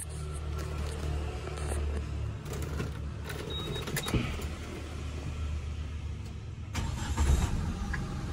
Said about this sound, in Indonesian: Ini kuncinya ya, coba kita starter.